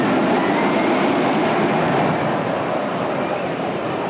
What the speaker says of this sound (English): New for this year is new trains and a rename to the Rattlesnake on the formerly Ladybug coaster.